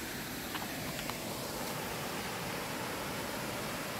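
Avis Falls waterfall in Tanap, Burgos, Ilocos Norte, a continuous broadband rush of flowing water, loud and steady, with a few faint clicks over it.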